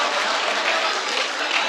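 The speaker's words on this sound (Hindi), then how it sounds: "एक बार जोरदार तालियों से इस्तकबाल किया रहा है" An audience at a poetry recital gives dense, sustained applause, a steady wash of clapping throughout.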